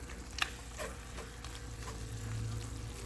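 Ground meat browns in a pan, a soft steady sizzle with a few light scraping stirs, close and fairly quiet.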